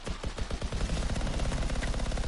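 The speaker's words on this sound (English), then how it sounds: "It's a chain gun." Rapid, steady burst of the Colossus class's autocannon chain gun in the video game Anthem, loud and continuous for the full stretch with no talk over it.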